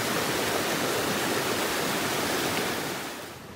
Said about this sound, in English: with a little view of a tiny waterfalls